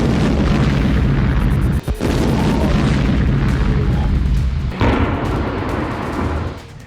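A loud, rumbling explosion blast in Tehran, Iran roars continuously with heavy low-end noise, briefly dipping twice before fading slightly toward the end.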